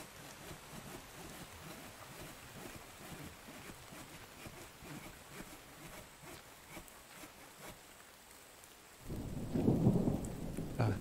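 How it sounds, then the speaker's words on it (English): Steady video game rain pours down throughout, with a deep rumble of thunder rolling in loudly near the end. "Got some rain, so my water catcher should hopefully fill up."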